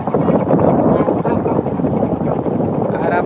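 A motorboat runs on the Titas river with a loud, continuous engine drone and wind buffeting. People talk over the noise.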